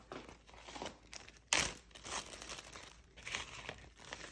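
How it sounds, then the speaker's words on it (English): A Ziploc plastic bag is handled close up, giving quiet crinkles and rustles in bursts with one sharp, louder crackle partway through. "You get a Ziploc bag."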